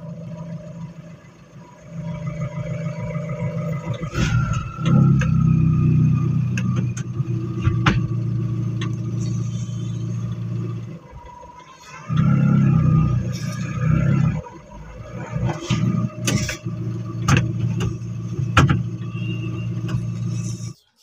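A Tata Intra V50 pickup truck engine runs steadily nearby, rising in a couple of revs before settling back, with occasional clicks and knocks over the rumble.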